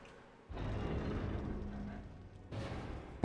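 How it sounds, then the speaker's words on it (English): A heavy door grinding open in the Elden Ring video game, a low rumbling scrape that starts abruptly, holds steady for about two seconds, then a second thud-like burst follows near the end. "now let's open this door"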